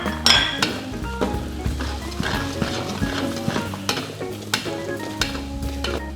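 Shallots and garlic stir-fried in a wok while crab is being cooked: steady sizzling and frying with a spatula scraping and clinking against the metal pan throughout, close and continuous, with no talk.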